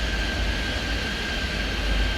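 A jet airliner taxiing across a runway in Airport Madness 3D, giving a steady, even engine rumble with a faint high whine held throughout, close and unbroken.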